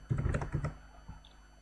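A short, close burst of several rapid computer keyboard keystrokes is followed by one fainter key press and a quiet tail, with no talking.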